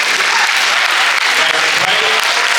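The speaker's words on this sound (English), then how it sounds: "so a round of applause to all of you." Loud, sustained applause from a school audience at a high school candidates debate, dense clapping filling the whole moment without a break.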